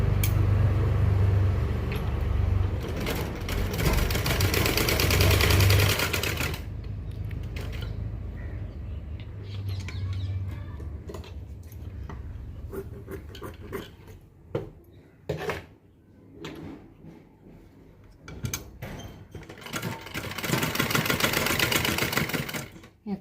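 A sewing machine runs close and loud while stitching a blouse, first in a long continuous burst. Then come short stop-start runs with creaks and clicks, and a final steady stretch, all with no voices.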